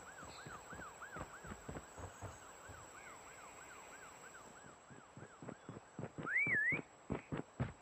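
A repeating warbling whistle from a prop in an Easter prop hunt raid in Call of Duty: Mobile, a rising-and-falling tone over irregular thuds, ending with one louder, closer whistle, with no talking.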